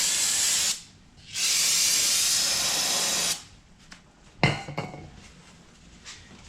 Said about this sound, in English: I'll spray a little bit more brake cleaner.